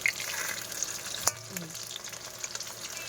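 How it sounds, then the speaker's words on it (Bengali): Tengra fish frying in a pan over a lowered gas flame, a soft steady sizzle with a sharp clink from turning the fish partway through. "কি সুন্দর ভাজা হচ্ছে দেখো মাছগুলো।"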